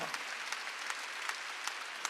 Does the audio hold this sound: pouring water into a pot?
no